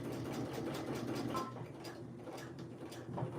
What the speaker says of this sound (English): I'm just gonna back stitch up just a little bit, and then I'm gonna go right here, back stitch one more time